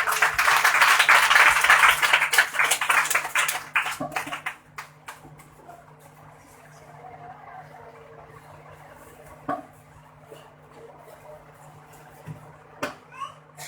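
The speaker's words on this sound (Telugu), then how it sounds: "అందరూ ఆహ్వాన్ వచ్చి చప్పట్లు కొట్టండి" Members of the audience at a PYPA meeting applaud together in a dense burst of clapping that lasts about four seconds and then fades. Only a few scattered taps and quiet room sounds follow.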